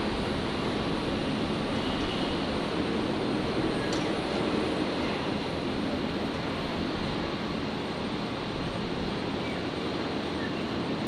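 A Qantas airliner takes off from runway 01 right at Brisbane International Airport, producing a loud, continuous broadband engine roar that stays steady throughout.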